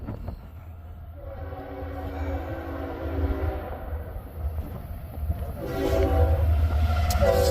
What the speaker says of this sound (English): Got another westbounder coming.